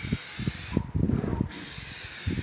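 A rattle spray can paints a Volkswagen Passat fender, with short bursts of hissing spray in a loose rhythm, one longer pass in the middle, close and fairly loud.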